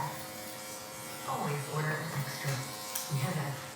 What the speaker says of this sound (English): I haven't had this clipper stall on me yet or clog up or anything